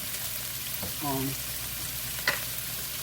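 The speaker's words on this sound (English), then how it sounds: "Get me some minced garlic going" Minced garlic sizzles in a hot pan with a steady, close hiss, briefly interrupted by a short voiced sound and a sharp stir or clink.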